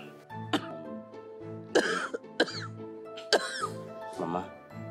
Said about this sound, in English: It's just ordinary cough.